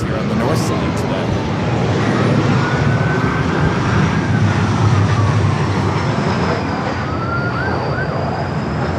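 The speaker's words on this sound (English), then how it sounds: "Number 2 for arrival following another E-Jet coming in from San Jose" An Embraer E-Jet airliner arrives at LAX on a sunny, hazy day, a loud continuous jet roar with a rising and falling tonal whine, heard from close by amid broadband noise.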